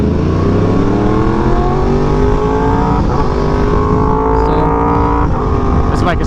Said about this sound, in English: this bike is so loud